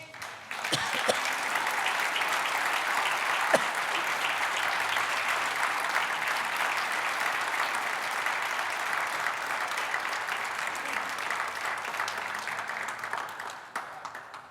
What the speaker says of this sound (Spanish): Por eso yo creo que Él se merece el mejor aplauso.